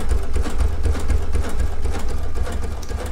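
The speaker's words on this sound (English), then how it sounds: "we're over halfway down this line of quilting." A Baby Lock sewing machine runs steadily while quilting a line of stitches. Its loud, continuous motor hum and rapid needle chatter stay even throughout, with no talking.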